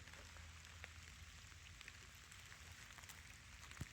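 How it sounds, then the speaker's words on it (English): Rain falls in the Canadian wilderness after a storm, a steady, quiet patter on foliage and ground with scattered individual drops ticking close by, and no voices. "You can hear the rain."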